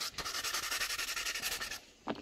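A drywall sanding sponge, around 120 grit, rubs sideways across a carbon fiber paddle holster in a steady run of quick, close scratchy strokes that stop near the end.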